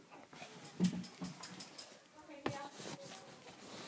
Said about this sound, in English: Uh oh, the dog!